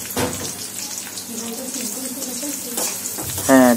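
Chopped onion frying in oil in a pan for mung dal muriGhonto: a bright crackling sizzle running throughout, with short scraping stirs and clatter at the start and near the end.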